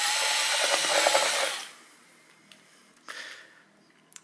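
Hitachi electric impact driver loosening bolts on a 1990s–2002 Toyota Corolla during water pump work, a loud close whirring burst for about a second and a half that then stops, followed by faint clinks.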